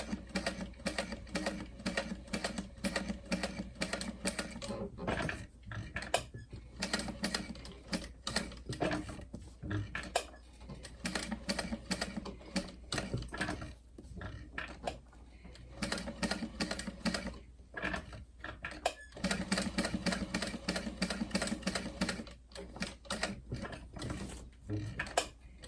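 Sewing machine stitching a fabric frame, its needle chattering in dense rapid bursts with brief pauses as the fabric is turned, steady and close throughout.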